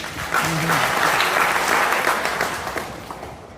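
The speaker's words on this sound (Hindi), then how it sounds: "आदित्य के लिए जोरदार तालियां" A classroom of students breaks into loud, dense applause for a fellow student, the clapping swelling quickly, holding strong for a few seconds, then tapering off.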